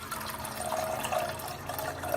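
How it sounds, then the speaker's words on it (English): Tamarind water is poured from one cooking vessel into another, a continuous close splashing trickle that holds steady throughout. "Now I'll just pour it into the other vessel."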